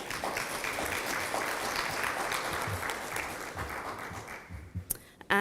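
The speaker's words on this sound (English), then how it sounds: "give a round of applause, another round of applause, for your founding members of the Grenada Investment Migration Organization" Conference audience applauding founding members of the Grenada Investment Migration Organization at an annual round table, a steady dense wash of clapping that thins and fades out near the end.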